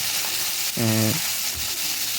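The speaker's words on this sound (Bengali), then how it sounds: "কাঁটা ট্যাংরা মাছটি এইবার দেখো ভাজা হয়ে গিয়েছে প্রায়" Spiny tangra fish fry in hot oil, giving a steady hiss and sizzle close up, broken by a brief low tonal hum in the middle.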